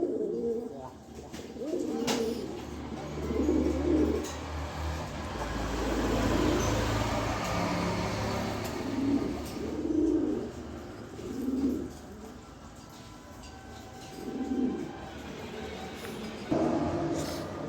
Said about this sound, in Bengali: এখানে এক পিস রেসার কবুতর দিলাম